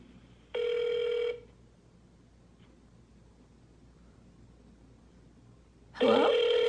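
A telephone rings out on a call to a medical triage hotline: one long steady ring tone, a few seconds of quiet line hiss, then a second ring starting, clear and close.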